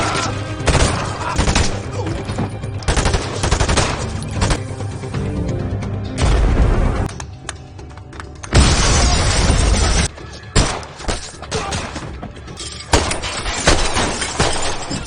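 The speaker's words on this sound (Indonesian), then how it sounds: "Akibat dari aksi tembak-menembak di antara kedua belah pihak itu, Wong pun harus terkena tembakan dari pihak" Gunfight between armed robbers and police in an action film: dense bursts of gunfire, booms and shattering glass, loud and continuous with sharp bangs throughout.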